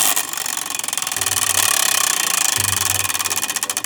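A random object wheel spins with rapid, evenly spaced clicking that gradually slows, sounding close and fairly loud, with brief low hums underneath partway through.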